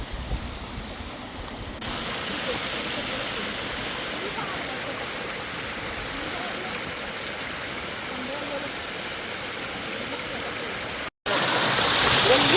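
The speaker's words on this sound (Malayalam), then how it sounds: "നല്ല പാറക്കല്ലുകളൊക്കെ ആയിട്ടുള്ള നല്ലൊരു തോട്" A small stream running over rocks beside a resort near Nilambur makes a steady, broadband rush of flowing water, close and continuous, with a brief cutout near the end before it resumes slightly louder.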